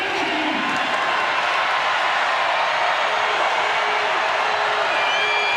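A crowd in a college basketball arena, Arizona hosting South Dakota State, keeps up a loud, steady roar of cheering and whoops that fills the whole stretch without easing.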